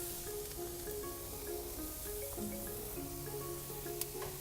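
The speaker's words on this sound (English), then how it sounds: "Hear that sizzle again." Strip steaks sizzle on a hot grill, a soft steady crackling hiss under faint background tones, continuous and fairly quiet with no speech.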